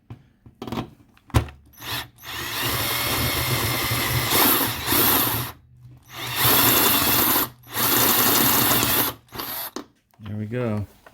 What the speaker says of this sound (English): go ahead and drill that hole